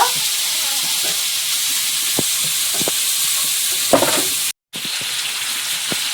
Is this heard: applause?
no